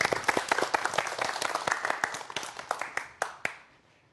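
A lecture audience at a quantum mechanics talk applauds, a dense burst of many hands clapping that thins into scattered individual claps and fades out within a few seconds.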